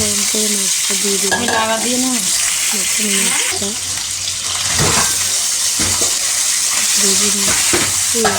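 Gutum fish fries in hot oil with a loud, close, continuous sizzle and a few stirring clatters, while a voice talks intermittently over it.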